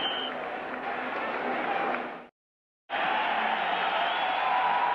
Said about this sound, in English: that roar of the crowd comes courtesy of Walter Payton